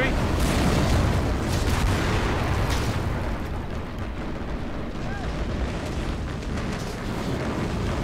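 Artillery fire and explosions in the video game Men of War: Assault Squad 2 make a dense, rumbling wash of booms. The blasts are loudest early on, and voices talk over them.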